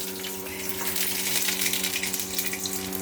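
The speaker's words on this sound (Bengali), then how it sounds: "কড়াইয়ে তেল গরম হয়ে গেছে, তার মধ্যে আমি সর্ষে আর লঙ্কা ফোড়ন দিয়ে দিলাম" Mustard seeds and green chilies sizzle in hot oil in a wok, giving a steady, dense crackling hiss that swells slightly midway and stays close and continuous, with a faint hum underneath and no talking.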